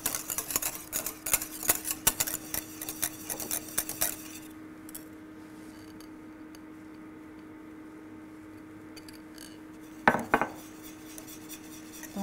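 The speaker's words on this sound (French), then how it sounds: "on n'hésite pas à fouetter" A chocolate and cocoa mixture for a bûche de Noël being whisked briskly in a bowl, with quick rapid metallic clicks and scrapes up close for several seconds, then a quiet stretch and a short final rattle.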